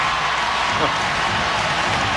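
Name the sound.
applause from Spurs fans at basketball game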